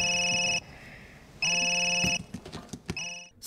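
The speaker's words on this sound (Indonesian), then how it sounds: "Berlin yang masih tertidur dibangunkan oleh suara telepon dari Camille." A telephone rings in a film, with two long electronic ring bursts separated by a pause, then some clattering and a third ring starting near the end, loud and clear.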